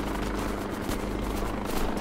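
A helicopter in the Delta Force video game gives off a steady, close rotor roar with a low, pulsing throb that stays loud and even throughout.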